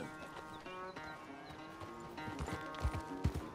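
Hooves clip-clop in a quick trotting rhythm as a horse named Jeremiah circles a corral in Red Dead Redemption 2, with game music playing underneath and heavier hoof thuds near the end.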